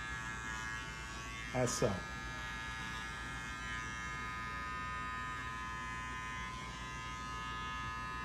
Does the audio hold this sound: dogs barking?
no